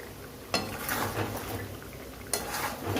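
Masala being stirred into braised chicken in a pot for chicken biryani, with two sharp clanks of a spoon against the pot amid steady sizzling and scraping, close and moderately loud.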